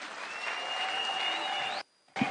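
A crowd claps at an outdoor political rally in Kisii, Kenya, a steady wash of applause carrying a thin, rising whistle of loudspeaker feedback before it cuts out abruptly near the end.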